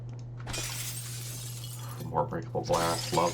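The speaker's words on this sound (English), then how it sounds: "More breakable glass, love that." Breakable glass shattering in the game Prey, a bright burst of crashing shards near the start that trails off, followed by someone talking.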